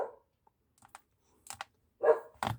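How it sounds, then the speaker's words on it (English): A dog barks in a few short, sharp bursts near the end, after sparse quiet clicks and taps, with the barking loud and close in an otherwise quiet room. "Let me just shut up that dog quickly."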